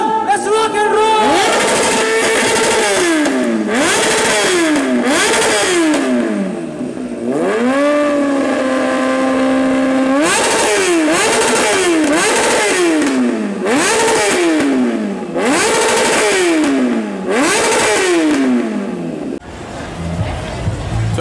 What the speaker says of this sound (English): That's the Prateek Ninja ZX10R.